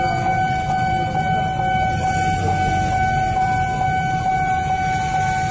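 A train arriving from the direction of Pasar Senen at a level crossing in Pondok Jati, a loud continuous rumble with a sustained horn-like tone throughout.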